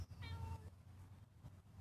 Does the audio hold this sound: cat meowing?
yes